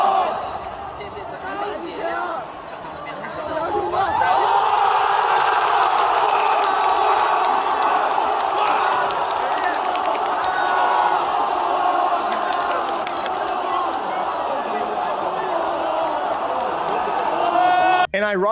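A large crowd at the Counter-Strike Shanghai Major roars and cheers, swelling from a murmur into a sustained loud ovation with whoops, and talking is mixed in.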